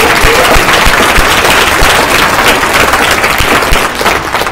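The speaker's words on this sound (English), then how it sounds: "Round of applause for Jaleesa." An audience at a university talk applauds a speaker, loud, close, continuous clapping that fills the space evenly and fades slightly at the end, with no voices over it.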